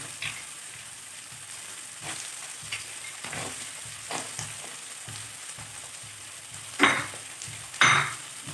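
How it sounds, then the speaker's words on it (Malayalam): Sliced coconut sizzles steadily in hot oil while a spoon stirs and scrapes the pan, with two sharper scrapes near the end. "തേങ്ങ ഇട്ട് കൊടുത്ത് അതൊന്ന് ചുവന്ന് വരുന്നത് വരെ അതിൽ ഇളക്കി കൊടുക്കണം."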